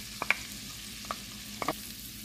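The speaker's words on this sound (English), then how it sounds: "So I am just going to saute the garlic for about 1 to 2 minutes" Four cloves of minced garlic sauté in melted butter with a soft, steady sizzle, broken by a few sharp clicks of a utensil against the pan; no one speaks.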